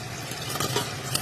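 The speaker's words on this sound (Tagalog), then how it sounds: "Saging guys, mag-prito." Oil sizzles and crackles steadily as bananas fry in a pan, with a few sharper pops and light stirring sounds, no talking.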